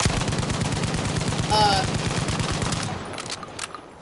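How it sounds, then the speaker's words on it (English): A Type 97 machine gun firing in a video game, a rapid, steady burst of close, loud shots lasting about three seconds before breaking into a few scattered trailing reports. "Type 97 MG."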